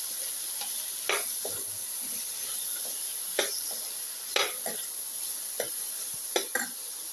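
Cucumber pieces stir and sizzle gently in a hot pan with cumin, a soft steady frying hiss punctuated by scraping clinks of the spatula.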